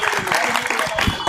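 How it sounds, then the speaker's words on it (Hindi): A crowd at an AIMIM post-election political rally claps loudly for Syed Ali in a short, dense burst of applause, with voices mixed into the noise. "एक बार जोरदार तालियां सैयद अली भाई के लिए"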